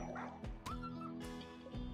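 A Labrador in the video game RimWorld gives a quick run of close yips and whimpering barks, sharp and repeated over about two seconds, with no talk.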